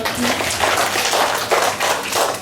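Students and teachers at a school declamation competition clap for a student speaker, a dense, steady patter of many hands filling the room for a couple of seconds.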